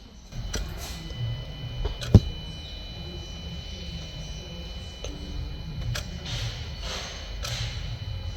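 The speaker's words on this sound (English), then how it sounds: "Miscellaneous tests, EGR valve. Hopefully we'll hear it click." A newly fitted EGR valve on a Peugeot 207 SW 1.6 HDI clicks while a diagnostic test actuates it. A few faint, sparse clicks and one sharper thud sit over a low background hum.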